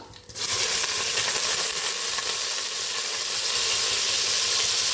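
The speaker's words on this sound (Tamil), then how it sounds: "சின்ன வெங்காயம் தட்டி சேர்த்துக்கலாம்" Crushed shallots hit hot oil in a pan for soya biryani, bursting into a loud, continuous hissing sizzle that holds steady after a brief quieter start.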